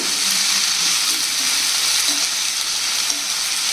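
Okra frying in a pan with turmeric while being stirred, a loud, steady, close sizzle with faint scraping of the stirring underneath.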